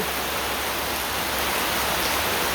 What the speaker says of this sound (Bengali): এত বৃষ্টি নেমে পড়ছে খুব বৃষ্টি নামছে